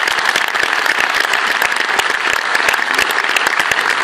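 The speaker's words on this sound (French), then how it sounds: "c'est pour ça que je voudrais qu'on applaudisse avec une sérénation encore une fois" Loud, dense audience applause at a concert featuring duduk and piano, sharp individual claps packed into a continuous roar that holds steady from start to finish.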